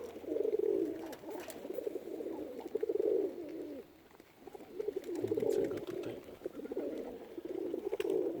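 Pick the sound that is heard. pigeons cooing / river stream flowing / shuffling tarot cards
pigeons cooing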